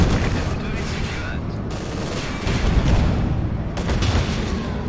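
Tank cannon fire and explosions rumble in a World War II strategy video game, with dense overlapping booms and gunfire throughout.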